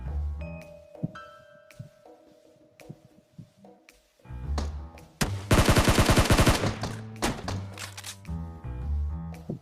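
Loud bursts of gunfire in the PUBG Mobile shooter game, including a dense rapid automatic volley in the middle, among scattered single shots and game sounds, with no talking.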